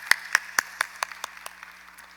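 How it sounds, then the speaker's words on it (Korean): About ten distinct claps in a church during an early-morning prayer service, spaced evenly and fading toward the end, with a low steady hum underneath. "우리 박수 한번 합시다"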